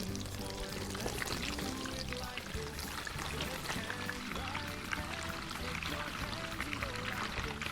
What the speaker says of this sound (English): Let's dump the water out of here.